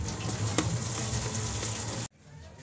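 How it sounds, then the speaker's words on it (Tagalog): Garlic and onion sautéing in a pan for a Filipino bamboo-shoot dish, a steady close sizzle that holds for about two seconds, then cuts off sharply into near-quiet. "Yan po mga idol, magigisa na po tayo."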